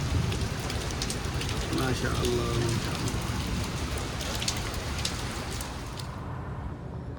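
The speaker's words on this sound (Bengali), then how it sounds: "বেদনা শহরে প্রচুর বৃষ্টি হচ্ছে আজকে প্রচুর বৃষ্টি" Heavy rain pours over Jeddah, a dense, even hiss of drops striking surfaces close by that runs without pause for the whole stretch.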